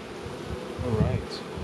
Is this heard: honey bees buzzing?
yes